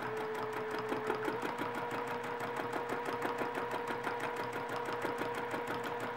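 A sewing machine runs steadily through free motion quilting, its rapid needle strokes forming a fast, even mechanical chatter that stays close and continuous from start to finish with no voices.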